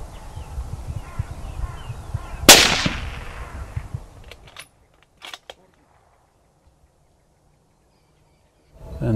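A straight-pull rifle fires a single sharp, loud shot at a fallow doe, followed by rustling, a few faint clicks and near silence, with quiet talk beforehand.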